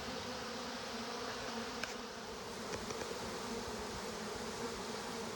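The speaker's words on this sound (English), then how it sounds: "Honeybees." Honeybees buzz inside a shop, a dense, steady swarm hum that stays close and even throughout, with no voices.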